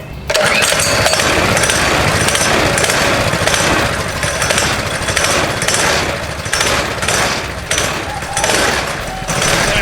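A modified KT196 go-kart engine roars to life and runs, a loud, rough, continuous small-engine clatter close by with uneven pulsing throughout.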